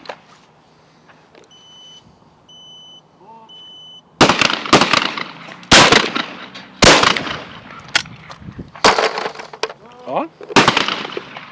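A Webley & Scott XSP air rifle fires repeatedly, seven or eight sharp loud cracks at irregular intervals of about a second, following a quiet stretch with faint beeps and a brief spoken word.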